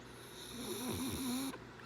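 A single long snore from a French bulldog, close and steady, with a whistling nasal whine riding over the rasp before it breaks off.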